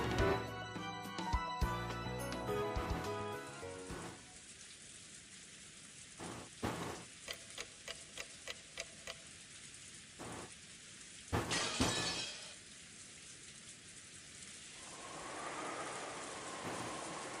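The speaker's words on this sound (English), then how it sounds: "The rain was still pouring down as hard as ever." Heavy storm rain pours down in a steady wash, broken by sharp crashing bursts and a few scattered impacts, with a faint low rumble near the end.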